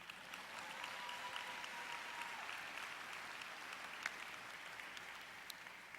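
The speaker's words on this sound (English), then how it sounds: "Applaud now." An auditorium audience at a college of social work commencement ceremony claps in steady, sustained applause, heard from a slight distance and fairly soft, with no talking over it.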